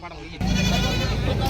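A goat bleats loudly and close by at a busy livestock market, a sustained wavering cry over dense crowd noise and chatter.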